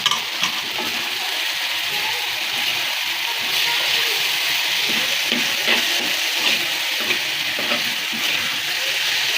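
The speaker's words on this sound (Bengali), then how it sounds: "মরিচ পেঁয়াজ লাল হয়েছে, এখন থোরগুলা দিয়ে দিলাম" Banana stem frying in oil with chili, onion, salt and turmeric, a dense continuous hiss and sizzle with faint stirring scrapes, close up and steady, with no talking.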